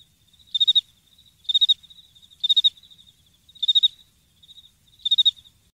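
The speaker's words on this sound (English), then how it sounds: "Crickets." Cricket sound effect: five evenly spaced bursts of high, rapid trilling chirps with softer single chirps in between, clear and isolated against silence.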